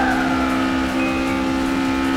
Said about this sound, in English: the drifting sounds are kind of drowning out everything else